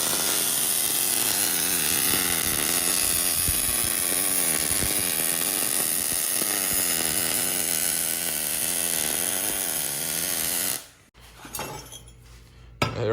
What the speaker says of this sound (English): Actually, he's welding right now, so let's go check it out.